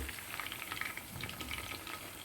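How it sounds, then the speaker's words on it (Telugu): Chicken 65 pieces fry in oil while being turned, giving a soft, continuous bubbling sizzle with scattered light crackles, faint and alone. "ఇలా తిప్పుకుంటూ వేయించుకోండి"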